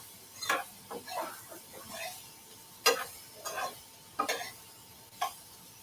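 Zucchini cooking in a pan is stirred with a series of quiet, separate scraping clicks at an uneven pace, over a faint background sizzle.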